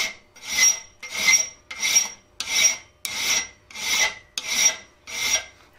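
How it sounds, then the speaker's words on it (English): A metal file rasping across a steel planishing foot chasing tool in eight even strokes, each a bright close scrape with short pauses between, steady and rhythmic. "just keep filing straight on across"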